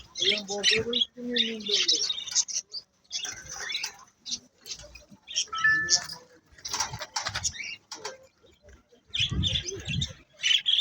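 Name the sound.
birds and pigeons at the Jizzakh bird market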